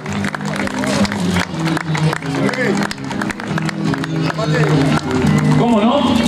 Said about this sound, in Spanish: señoras y señores, los despedimos con un fuerte aplauso